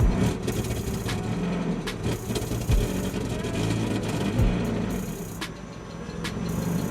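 A Mazda Miata engine idling roughly and unevenly, a loud, steady rumble that sags and recovers as if close to stalling, heard up close.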